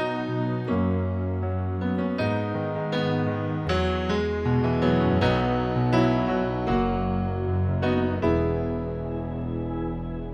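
A Nord Stage 4 layering the B3 Gospel organ, Hi-Fi Grand piano and Silk Pad sounds, a full sustained chord progression with piano attacks over organ and pad, played alone.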